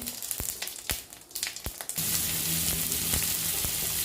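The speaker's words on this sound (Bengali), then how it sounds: "এবার আমি শুকনো লঙ্কা ফোড়ন দিচ্ছি, দিয়ে সরে যাচ্ছি" Dried red chillies drop into hot oil for tempering, first sparse knocks and crackles, then a sudden loud continuous sizzle that holds steady to the end, no voices.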